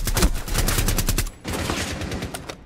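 Rapid bursts of gunfire from a Rainbow Six Siege match, a dense automatic volley that cuts out briefly and then resumes with more scattered shots, loud and close.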